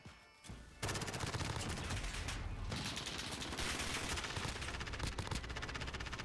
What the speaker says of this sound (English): I'm just gonna keep shooting, keep reloading, keep going